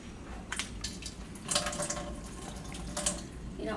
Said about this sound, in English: put a little warm water.